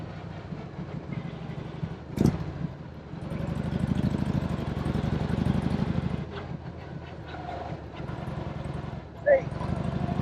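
Harley-Davidson Shovelhead Electra Glide motorcycle riding on the road, a steady low engine rumble running throughout under wind, with a couple of brief sharp knocks.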